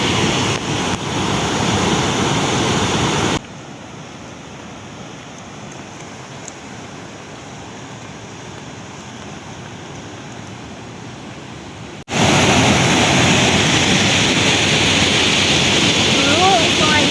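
A river flows steadily with a loud, continuous rushing of water. It drops to a softer, more distant wash midway, then surges back up close and strong.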